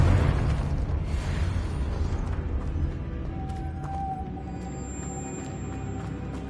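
A Confringo blasting spell in Hogwarts Legacy goes off as a loud burst at the start, then its rumbling blast fades into a steady, lower background with faint tonal game sounds.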